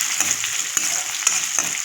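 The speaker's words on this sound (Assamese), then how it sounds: "পিঁয়াজ জলকীয়া আৰু লগত পাঁচফোৰণ দি কিনে ধুনীয়াকৈ পিঁয়াজখিনি গল্ডেন কালাৰ ভাজি ল'ম" Sliced onion and green chillies sizzle in hot oil with panch phoron, a steady close frying hiss broken by rhythmic stirring scrapes about every half second.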